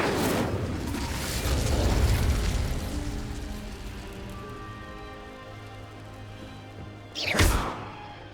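A fiery Incendio spell bursts in Hogwarts Legacy on PS5, a loud, sharp whooshing blast near the end, rising over a rumbling, crackling game ambience with low droning tones.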